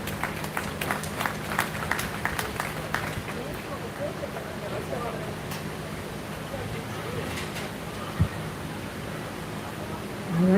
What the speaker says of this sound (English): Let's give another round of applause to our senior beef showman.